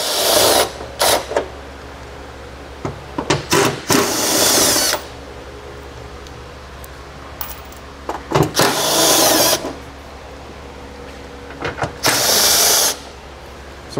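A power tool with a 10mm socket drives nuts off an interior panel of a 2020 Ford Explorer, giving loud whirring bursts of a second or so, separated by quieter pauses.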